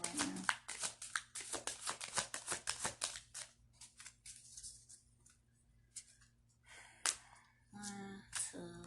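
A deck of tarot cards is shuffled by hand in a quiet room, giving a close, rapid run of crisp riffling taps that thins out into a few scattered flicks, with a brief voice near the end.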